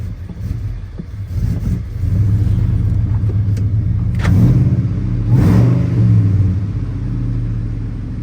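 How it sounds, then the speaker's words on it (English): A truck engine idling and then revving as it backs out, loud and close, a deep rumble that swells and eases in waves with no talk over it. "now we're gonna back this truck out of here"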